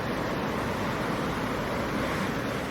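Ocean waves washing up on a beach on a calm, moody dawn, a continuous close roar of surf with light wind rumble and no voices.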